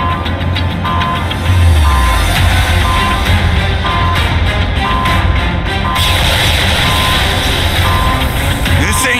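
An alarm blares in the video game Astral Chain, a loud, continuous electronic tone pulsing over dense game noise and music, sustained throughout with a shift in texture partway through.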